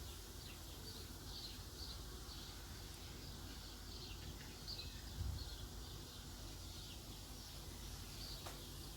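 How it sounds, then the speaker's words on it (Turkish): Faint birdsong chirps from garden birds near a cherry tree repeat in the distance, partly masked by a steady outdoor background noise. "Duyduğunuz kuş sesleri Efekt değil gerçek bahçedeki kuşların sesleridir."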